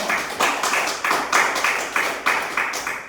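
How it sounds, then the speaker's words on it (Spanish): A church congregation claps in a steady rhythmic beat, roughly three claps a second, fairly close and moderately loud with no talking over it. "Démosle un aplauso a nuestra iglesia católica."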